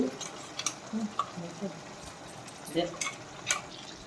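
A spoon stirs masala into prawn curry in a pan, with faint scraping and light clinks and a low sizzle in a quiet room.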